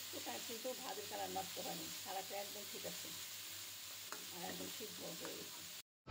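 Bitter gourd and potato bhaji sizzles and fries in a pan as the last water cooks off, with a steady hiss and soft bursts of crackling, fairly quiet, and a brief scrape near the end.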